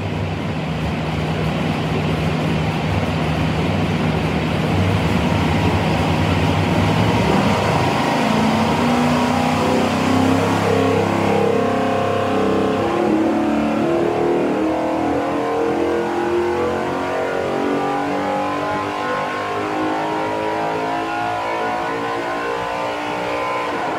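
A 680 hp 427ci LS V8 runs on a dyno, idling with a steady burble before winding up into a long, loud climbing rev. The pitch keeps rising steadily to the end.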